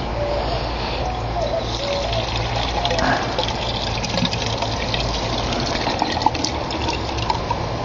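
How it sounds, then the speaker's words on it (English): Water gushes and pours steadily into a homemade HHO electrolysis generator, a continuous close filling sound lasting several seconds with a low hum underneath. "Let's add some water to it real quick and see what happens."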